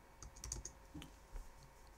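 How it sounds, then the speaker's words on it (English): Computer keyboard keys are tapped in a quick irregular burst while entering text, close and fairly quiet, with a few separate clicks after, and no voices. "And again, you want to type in football."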